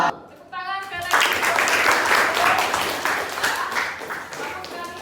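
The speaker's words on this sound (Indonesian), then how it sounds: "Tepuk tangan sekali lagi" Classroom applause during a physics lesson: after a brief moment of speech, a group of students bursts into loud, dense clapping that carries on and slowly tapers, with a few voices mixed in.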